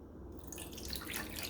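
Moon water poured from a vessel into a container, a continuous trickling splash that starts after a brief pause and grows steadily louder and brighter.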